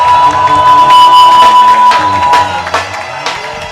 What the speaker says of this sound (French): est-ce qu'on peut faire monter des acclamations à Jésus?